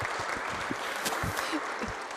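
Applause from the crowd at a Safe Streets community event, a dense wash of clapping with voices talking under it, brief and steady throughout.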